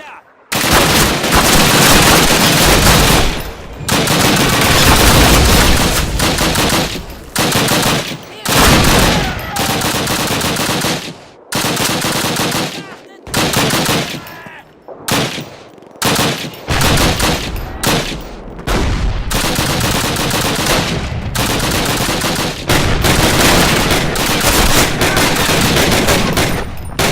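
Sustained heavy gunfire from a World War II battle in Call of Duty: dense rifle and machine-gun bursts roll almost continuously for the whole stretch, loud and close, broken by only a few brief gaps, with shouted voices now and then.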